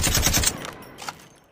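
A short burst of rapid automatic gunfire in the mobile shooter Call of Duty Mobile, several quick loud shots at the start that fade into a faint tail.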